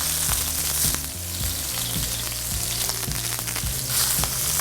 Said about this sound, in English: I don't know if you could see how pink this shrimp is while it's cooking here in the pan